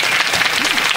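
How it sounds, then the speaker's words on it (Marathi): The audience at a kirtan during an akhand harinam saptah in Chinchani breaks into a short burst of loud, close, dense clapping. "आमच्या सवंगड्यासाठी टाळ्या होऊ दे"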